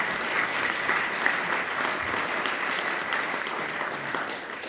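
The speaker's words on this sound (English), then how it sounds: "So let's give a round of applause for all 6 of our pitchers tonight." Steady audience applause at an innovation summit pitch contest, a full room clapping in a dense, even wash of hand claps from start to finish at moderate distance.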